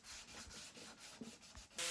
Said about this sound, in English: When sanding down the wood epoxy on the old hardware holes, I just take my time.